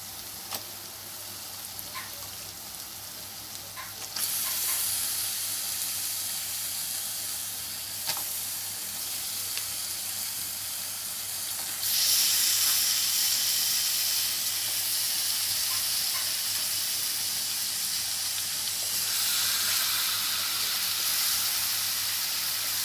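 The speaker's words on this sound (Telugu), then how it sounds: "ఇప్పుడు మనం చికెన్ వేసుకుందాం" Chicken pieces added to a pan of fried ginger paste sizzle loudly and steadily, the hiss swelling in two distinct steps as more goes in, with no one talking.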